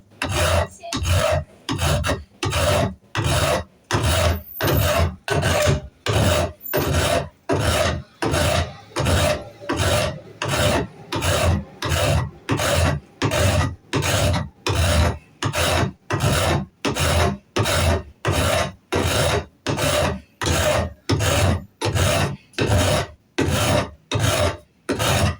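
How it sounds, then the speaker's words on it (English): A small beveling file is drawn again and again through grooves in a wooden knife handle, giving steady, evenly spaced rasping strokes about once per second, close and loud, with brief pauses between them. "I got a little beveling file here. I'm trying to get up in here and clean this out real good."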